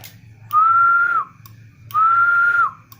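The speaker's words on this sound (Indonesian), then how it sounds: "Kalau kita siul maksimum 100 watt ya" Someone whistles into a microphone to test a 40m-band HF RF booster, a 200 W linear amplifier: two steady, sustained whistled tones separated by a short pause, loud and close over a faint low hum.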